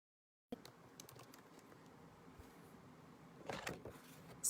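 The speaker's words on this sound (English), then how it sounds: "I'm just going to type something." Faint, quiet typing on a computer keyboard: a steady patter of small clicks running for a few seconds, with a louder flurry of keystrokes near the end and no voices.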